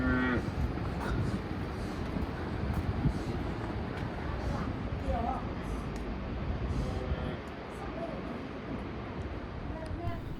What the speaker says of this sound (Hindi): इस तरफ भेड़ बकरियों को इस खुले बाड़े में बंद किया जा रहा है